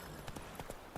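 Hooves clip-clopping at a quick gait from a horse in The Witcher 3: Wild Hunt, a brief run of soft, fairly faint thuds.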